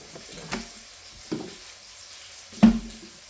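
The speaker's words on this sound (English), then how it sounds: "So taking a little less than half the onion, I'm going to rough chop that" A knife rough-chopping an onion on a cutting board gives three separate, sharp knocks spaced over a few seconds, close and clear against a quiet background.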